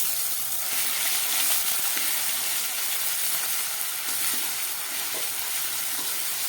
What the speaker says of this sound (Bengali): পেঁয়াজের পেস্ট ভাজা হয়ে এসছে